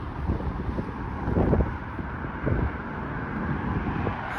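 Wind buffets the microphone outdoors on a walk through a Toronto neighbourhood, a steady rumbling rush with a few stronger gusts swelling and fading, no voices.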